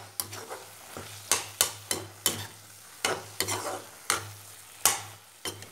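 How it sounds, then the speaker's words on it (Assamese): A spoon scrapes and stirs bottle gourd khar frying in a pan, about a dozen sharp clacks at an uneven pace over a soft sizzle and a low steady hum, with no voices. "অকণমান লৰাই দিছোঁ, আকৌ ঢাকোনখন লগাই দিম।"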